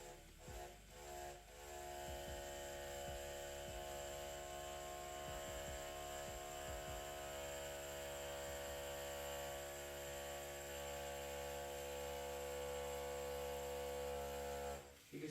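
A More Money tattoo machine running at about 6.5 volts gives a steady, quiet electric buzz with a constant hum, lasting throughout with only slight variation.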